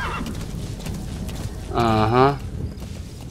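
Horse in the video game Metal Gear Solid 5 whinnying once in a loud, rising neigh near the middle, over faint hoofbeats and game background, with a brief spoken interjection at the start.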